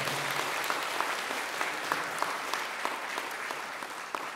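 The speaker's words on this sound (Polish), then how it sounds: "Brawo, wielkie brawa." An audience claps steadily after a concert at a first-level music school open day, with dense, sustained applause filling the room and a few sharper claps standing out.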